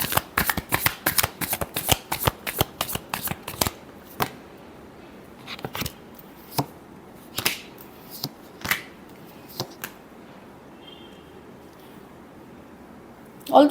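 Tarot cards are shuffled up close in a rapid run of crisp riffling bursts for about four seconds, then a few slower, separated shuffles follow in a quiet room.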